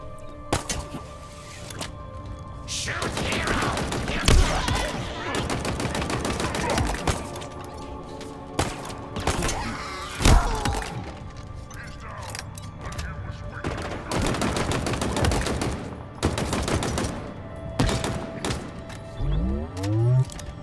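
Gunfire in Halo Infinite as a full magazine of kinetic ammo is emptied, with dense bursts of rapid shots broken by short pauses, loud and up front, mixed with game effects.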